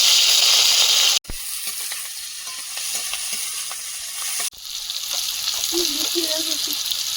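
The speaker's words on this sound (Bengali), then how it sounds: "কড়াইতে তেল দিয়ে দিলাম কালো জিরে কাঁচা লঙ্কা আলু" Potato, nigella seeds and green chilli fry in hot oil in a wok, a loud steady sizzle broken by two brief pauses and dips, with faint stirring clinks underneath.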